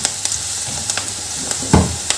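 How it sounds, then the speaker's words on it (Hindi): Chopped vegetables sauté for veg fried rice, a steady sizzle from the hot pan broken by a few sharp clinks and one louder stirring scrape. "सब्जियों को हमें ज़्यादा पकाना नहीं है, बस 1 मिनट के लिए सौते करना है"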